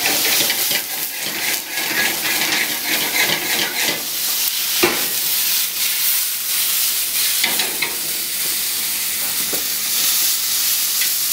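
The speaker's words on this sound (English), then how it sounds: "You can see in here the nice caramelization happening in the ginger and the garlic" Ginger and garlic aromatics frying and caramelizing in a pan during a cooking demonstration, a steady close sizzle with occasional clinks and stirring scrapes, no voices.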